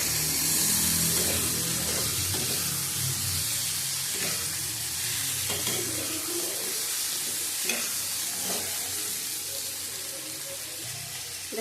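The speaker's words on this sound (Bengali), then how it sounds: "আবার কষিয়ে নেবো 8 মিনিট।" Potato curry sautéing in a pan with turmeric and Kashmiri chilli powder, a steady soft sizzle with light scraping stirs at a moderate distance, no talking.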